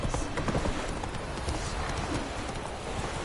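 Horse hooves clip-clopping in the video game Witcher 3, a rapid rhythmic trot that stays steady and close throughout, over a dense, noisy background.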